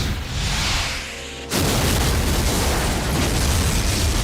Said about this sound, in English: That is a much bigger explosion than that would produce